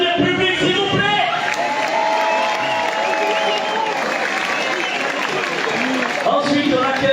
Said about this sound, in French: Les commandas, on peut les applaudir public s'il vous plaît.